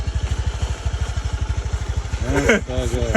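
Motorcycle engine running in the Lombok rainforest near Rinjani, a close, rapid rhythmic putter that rises toward the end, with someone speaking over it.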